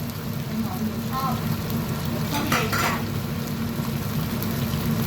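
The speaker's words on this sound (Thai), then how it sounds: "เราก็จะนำเอาหน่อไม้ฝรั่งใส่ลงไป ครับิดมาด้วยเห็ดหอม" Asparagus and shiitake mushrooms stir-fried in a hot pan give a steady, close sizzle with brief stirring scrapes, and a faint voice murmurs in the background.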